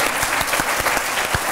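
A television studio audience applauds a guest, Arnaud Gidois, on a French lunchtime news programme, with dense, steady clapping that carries through the whole short burst.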